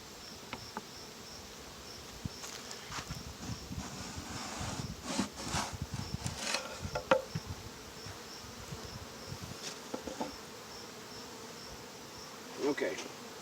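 A dense cloud of honeybees buzzes steadily around a shaken hive frame from a cell starter colony, the hum rising and swelling as bees take flight close by.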